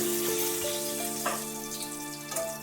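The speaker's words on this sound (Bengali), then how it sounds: "এবার দিচ্ছি এই তেলের মধ্যেই একটা পাকা লঙ্কা ফোড়ন, 2টো তেজপাতা আর কিছু পরিমাণ জিরে" A dried red chilli, two bay leaves and cumin seeds hit hot oil for a Bengali prawn and banana-flower dish, producing a steady close sizzle with faint sustained tones beneath and no voices.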